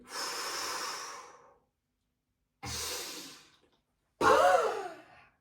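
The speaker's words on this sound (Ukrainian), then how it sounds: "Видих." Three long audible exhales during a breathing exercise, breathy and close, with silent gaps between them; the last comes out stronger and slightly voiced, like a sighing breath.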